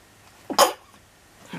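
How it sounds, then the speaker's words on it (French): A single sharp sneeze bursts out up close, preceded by a brief intake, then quiet room tone with a faint trailing breath near the end. "Fallait que j'éternue."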